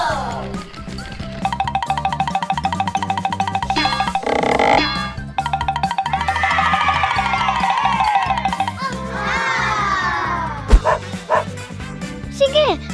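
Dogs bark and yip repeatedly amid busy background music and sound effects, the barks scattered throughout rather than in a steady rhythm.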